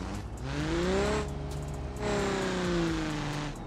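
A new $32,000 engine with nitrous on revs hard in the BeamNG video game, rising and falling in two loud, sustained pulls that fill the whole stretch.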